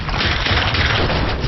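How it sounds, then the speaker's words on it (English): A rhino monster's chain gun in a Wwise AK Cube game demo, a loud, dense, continuous mechanical rattle of rapid metallic fire. "To emphasize the mechanical nature of the rhinos, I focused on the metal timbre of the chain gun."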